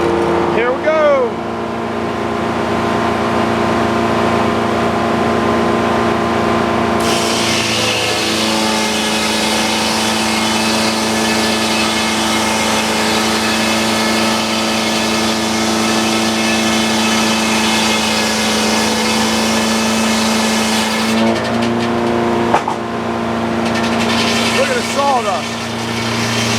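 A sawmill cuts through a big oak log being milled into farm wagon beams, its engine droning steadily at high load for nearly the whole stretch, with the pitch shifting partway through and easing near the end.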